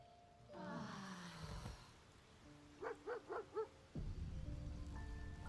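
Dog in the Baldur's Gate 3 game, sounding with short yips and whimpers, a rapid run of four quick high barks in the middle, quiet and set against soft game ambience.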